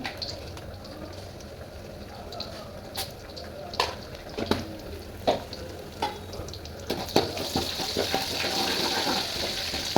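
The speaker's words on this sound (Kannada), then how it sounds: "ಚೂರೆಣ್ಣೆ ಹಾಕಿ ಸಾಸಿವೆ ಬೆಳ್ಳುಳ್ಳಿ ಜೀರಿಗೆ" Mustard seeds, garlic and cumin frying in a little oil, a steady crackling sizzle with sharp pops and clicks of stirring, the frying growing louder and busier toward the end.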